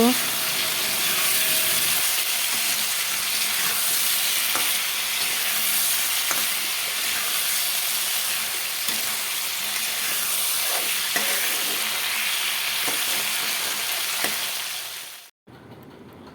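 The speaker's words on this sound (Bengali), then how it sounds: "হলুদ দিয়ে লাল লাল করে ভেজে নেব।" Katla fish frying in oil with turmeric makes a loud, constant bright sizzle close by, with occasional soft stirring clicks, before the sound cuts off abruptly near the end.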